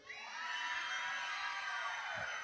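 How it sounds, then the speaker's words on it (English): A large crowd of children at a church kids' event screaming and cheering together, one loud sustained roar of high-pitched voices that swells quickly and holds steady before fading slightly. "let me hear you scream"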